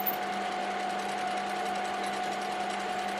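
Lathe machining a car part for a sports car build, a steady loud whirring hum with a constant pitched whine, running evenly and close by with no talking over it.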